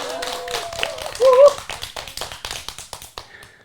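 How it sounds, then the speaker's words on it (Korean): An audience at a public talk breaks into a short round of applause, a burst of scattered hand claps that thins out over a couple of seconds, following a brief voice at the start. "박수 한번 쳐주세요"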